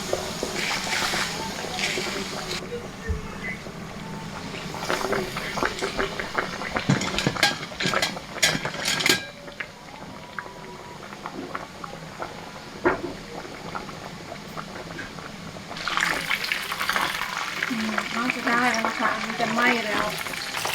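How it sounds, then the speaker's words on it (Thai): Pork pieces hit hot oil in a pan for tonkatsu, bursting into loud, close, sustained sizzling and bubbling with a flurry of crackles and pops, faint talk in places. "แล้วก็เอาหมูของเราลงไปทอดเลย"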